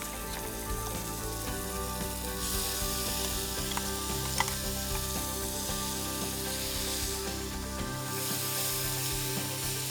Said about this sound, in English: Once the pan is hot, you'll just want to add in your spice paste and cook it till it's fragrant